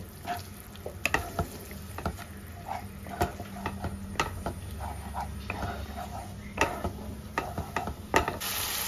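A spoon stirring spice mix with sour yogurt and cashew paste in a pan, with repeated scraping clinks against the metal over a low background hum.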